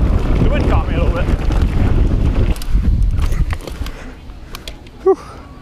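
Loud, continuous wind buffeting the microphone while riding a mountain bike at speed off a jump at a bike park, roaring broadband rush that eases off toward the end, with a brief exhale near the close.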